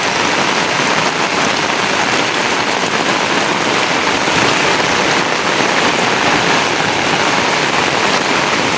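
Heavy rain pours down in a dense, unbroken roar, loud and close, with no voices or other sounds standing out.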